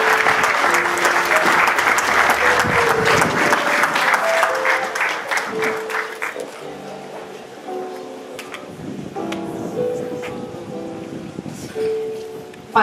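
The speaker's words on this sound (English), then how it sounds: "Give him a round of applause." A church congregation applauds at a youth Sabbath service, steady dense clapping loud for the first few seconds, then thinning and fading under organ-like music and murmuring voices.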